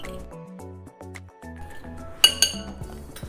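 A spoon stirs flour, baking powder, baking soda, sugar and salt together in a bowl for no-yeast garlic bread sticks. A few quick clinks come near the end, over steady background music.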